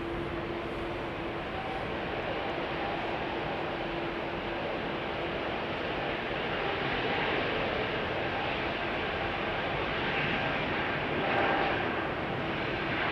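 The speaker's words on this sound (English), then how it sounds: "Whale sounds emanating from the engines of the" Airbus A220 jet engines at Amsterdam Schiphol Airport, heard from a distance as a steady broad roar with a faint whining tone on top, holding level with no talk.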